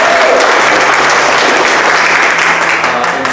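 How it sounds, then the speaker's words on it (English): Loud, dense applause from a crowd gathered in Salinas, California, honoring the state Democratic Party chair, sustained and steady throughout with no pauses. "I think we should give our chair a big round of applause"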